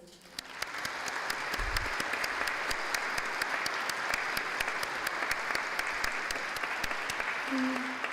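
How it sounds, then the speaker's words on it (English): An audience at a brass ensemble concert in Westminster Presbyterian Church, Pasadena, California, breaks into sustained, loud applause that fills the room for several seconds without letting up. "Would you join me in just applauding this beautiful family for all that they have done for us all these years?"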